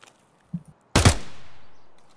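A single sharp, loud gunshot from an enemy in a shooting video game, followed by a ringing echo that slowly fades. A few soft thuds come just before it.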